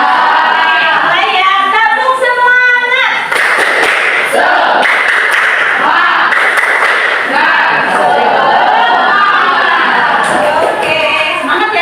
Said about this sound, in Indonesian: Ibu mau minta tepuk semangatnya.